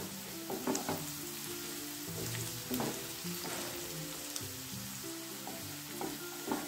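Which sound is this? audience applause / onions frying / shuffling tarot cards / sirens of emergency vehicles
onions frying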